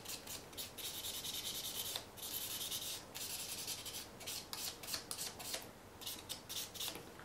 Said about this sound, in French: vous venez délicatement, bien griffer partout, surtout au bord libre